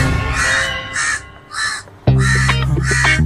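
A crow gives several loud, harsh caws in short bursts with brief gaps between them, close by, over a low background of faint music.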